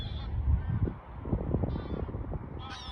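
Honking bird calls, like geese, sound from a distance in the Netherlands, rising and falling over a rumbling, windy background.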